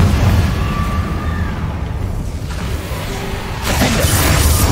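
Fire-blast spell in Hogwarts Legacy combat: a dense roaring rumble of bursts and crackles holds steady, with a brighter blast flaring near the end.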